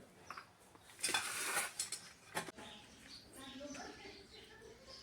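Metal utensils clatter and clink in a short burst, then quieter knocks follow, heard up close while people speak softly nearby.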